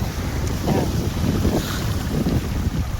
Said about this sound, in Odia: ଏପଟେ ଗୋଟେ ଡଙ୍ଗା ଲାଗିଲାଣି